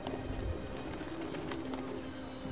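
Pigeons cooing at a feeding spot, soft low coos repeating amid a noisy outdoor background with faint chirps, moderately distant and not very loud.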